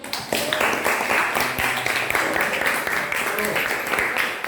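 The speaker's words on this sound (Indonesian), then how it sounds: "Beri aplaus" An audience applauds at a religious lecture on infak, the clapping a steady, dense wash of many hands that runs through the whole moment at moderate loudness.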